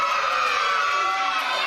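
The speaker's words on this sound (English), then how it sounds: "The crowd are liking this." Wrestling crowd at a live W3L Showdown match cheering and shouting loudly and continuously, a dense roar of voices with children's shrieks mixed in, close and unbroken.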